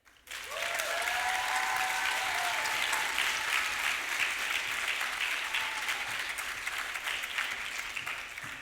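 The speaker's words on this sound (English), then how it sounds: "Can we have another round of applause for Gopika, please?" Enthusiastic audience applause fills a hall at the BTC 2024 opening ceremony after a stage performance. Many hands clap in a dense, continuous wash that stays strong for several seconds and fades slightly toward the end.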